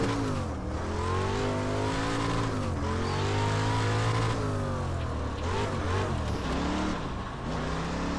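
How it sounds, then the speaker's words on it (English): A Dirt Street Stock car in iRacing roars around a dirt oval, its engine droning steadily and loud throughout, with pitch rising and falling as it accelerates and lifts through the turns, tires scrubbing on the loose surface. "Dirt Street Stock is the next car on the list of those to try."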